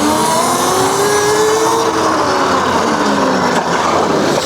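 An EBOX Dragster electric mini bike accelerates with a rising, close electric motor whine that climbs in pitch over a few seconds, alone without voices.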